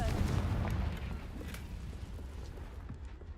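In the Hogwarts Legacy video game, the Confringo blasting spell sets off a deep booming explosion that fades into a long rumbling roar with faint crackles over a few seconds, with no voices.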